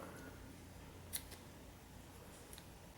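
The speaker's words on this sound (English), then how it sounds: "once you're done, you can go ahead and cut this yarn tail" Scissors snip through a crochet yarn tail on a finished slipper, giving a single quiet, crisp cut over a soft, steady room hush.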